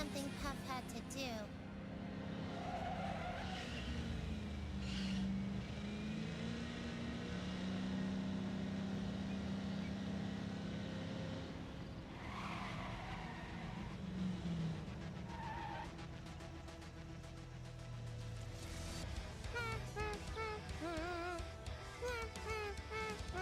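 Truck driving in the video game NTE, a continuous engine drone with tire noise and occasional skidding swells, steady and fairly loud, with game music and effects layered over it.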